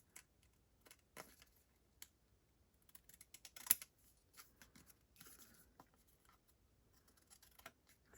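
Scissors trimming the excess edge from a glued paper flag for a tabletop pirate ship model make a series of faint, close, crisp snips and clicks at irregular intervals, with quiet gaps between cuts.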